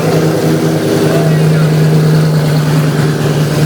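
A Mercedes-AMG car at a loud car show event rumbles in a steady, loud, deep engine drone, sustained without clear revving peaks, with voices around it.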